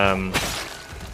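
A single sharp shattering crash as an object is smashed apart for wood in a zombie survival video game, loud and brief, following a short tonal sound.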